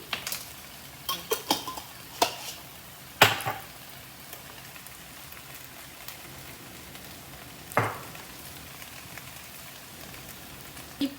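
Broccoli with moong dal frying in a pan with homemade chili powder, giving a faint, steady sizzle and crackle with scattered sharp clicks and stirring knocks, no voices.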